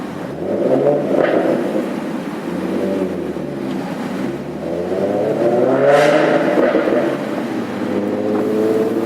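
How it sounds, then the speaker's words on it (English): A 2012 Mustang V6 engine revs hard and roars continuously, pitch rising and falling through gear changes, with a sharp backfire pop near the middle and steady wind noise. "It backfires like crazy, listen."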